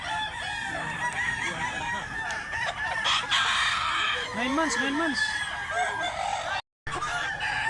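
A black-legged rooster of a named bloodline crows at a Cebu poultry market, its call rising over steady crowd noise and nearby chatter, with a brief cutout near the end.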